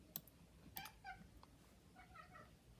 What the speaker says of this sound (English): Sorry if you can hear my cat meowing at me.